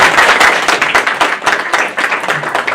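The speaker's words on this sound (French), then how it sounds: "Elles ont tellement applaudi." Dense applause from an audience of women at a platform launch event, loud and close, with many overlapping claps and a few sharper individual hand strikes, sustained throughout without talk.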